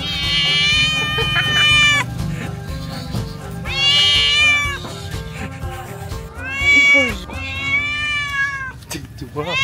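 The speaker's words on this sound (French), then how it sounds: "Ici il y a un chat." A cat meows loudly and insistently, letting out several long, drawn-out wailing calls with short pauses between them.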